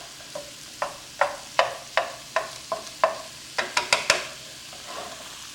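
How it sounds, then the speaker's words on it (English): Ground beef browns in a hot pan as a utensil breaks it apart, giving a series of sharp, close scraping taps in an uneven rhythm over a soft sizzle. "I'll just break down the beef so it browns a little quicker."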